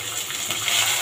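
Chopped ginger dropped into onions frying in oil in a pan, a steady, loud hiss and sizzle that stays constant for a short moment, close up, with no talking.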